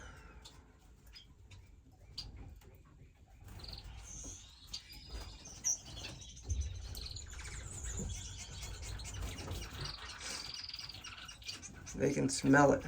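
Pet finches and other birds, pigeons among them, chirp and squawk around a feeder, busy overlapping tweets of moderate loudness, with someone talking over them and a louder burst of calls near the end.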